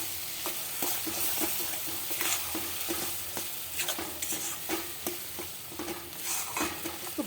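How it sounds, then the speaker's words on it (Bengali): Beetroot paste fries in a pan with a steady sizzle, broken by repeated scraping stirs of a utensil against the pan. "একটু ভাজা ভাজা হবে বিটটা।"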